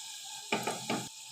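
Garlic and dried curry leaves sizzle in hot oil for a tadka, a brief crackling burst with a couple of spatula scrapes against the pan, close by.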